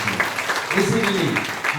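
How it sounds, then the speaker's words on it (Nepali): A congregation claps at a wedding ceremony in a church, brief steady clapping heard under a voice speaking over it. "ताली बजाएर हामी प्रभुलाई धन्यवाद दिन्छौँ"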